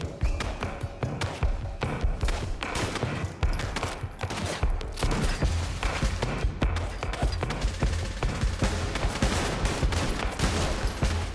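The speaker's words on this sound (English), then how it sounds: "I was shooting like five into them" Rapid, continuous gunfire from the video game Fallout London, dense bursts of shots stacking up and pounding without pause, loud and close throughout.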